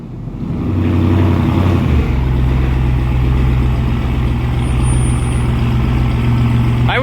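A straight-piped 4-inch Cummins diesel dually pickup runs loud and close, a deep steady rumbling drone with strong low harmonics that holds throughout after a quick rise at the start.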